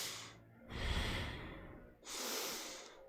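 Deep rhythmic breaths during a Kundalini yoga kriya, a long airy inhale followed by a forceful exhale and another inhale, close and alone.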